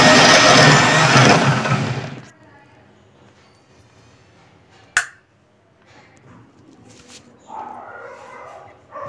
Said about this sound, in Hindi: उसके बाद में हम इसको मिक्सी में चलाते हैं।